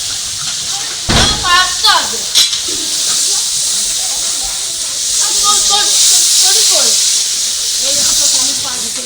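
Water poured into a pot of khichuri cooking over a wood fire sets off a loud, sustained steamy hiss, while voices talk over it.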